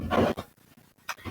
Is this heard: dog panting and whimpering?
yes